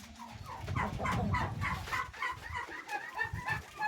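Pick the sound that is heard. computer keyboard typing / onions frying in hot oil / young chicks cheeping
young chicks cheeping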